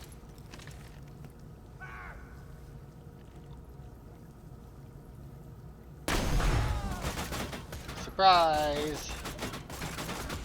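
Gunfire from a Hyperion weapon in the video game Borderlands 2, a sudden burst of loud, dense shots starting partway through, with in-game voices and a shout over the firing.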